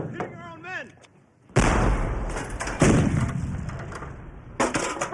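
Heavy gunfire and artillery blasts roar from a battlefield in a 2001 World War I film, a sudden sustained barrage with sharp bursts, loud and close, after shouting voices fall silent.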